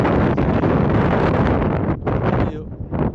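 Strong wind roaring over a forest fire in Andong, with loud continuous buffeting on the microphone that barely lets up. A reporter's voice is faintly mixed in.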